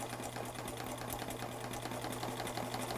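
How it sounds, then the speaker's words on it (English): Sewing machine zigzag stitching over crochet thread on tulle for a fabric flower, a steady rapid mechanical whirr with a fast rhythmic needle clatter, close and continuous. "You're just going to zigzag right over the top of your crochet thread"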